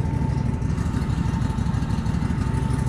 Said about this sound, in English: It's a fairly decent running engine for me. It's brand new.